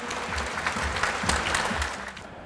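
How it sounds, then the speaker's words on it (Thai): An audience at an art exhibition gathering claps to welcome two guests, a moderate, brief round of applause with a faint murmur of voices underneath, tapering off at the close. "ขอเสียงปรบมือต้อนรับให้กับทั้งสองท่านด้วยค่ะ"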